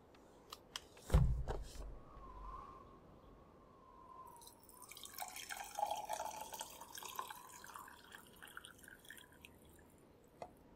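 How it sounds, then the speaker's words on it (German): Tea poured into a cup, beginning with a sharp clink and a few drips, then a steady, fairly faint trickle of liquid that runs for several seconds with no talking. "gieße mir einen Schluck Tee ein"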